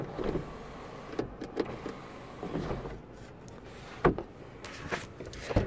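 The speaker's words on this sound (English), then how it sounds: "Power sunroof." The power sunroof of a 2012 Honda Civic EX operates inside the cabin, heard as a soft, quiet motor whir with a few light clunks and sliding sounds and no talking.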